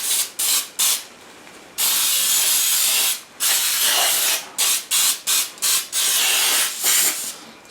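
Flour baking spray hisses from an aerosol can into a bundt pan in a string of loud bursts, several long and several short, with brief silent gaps between them.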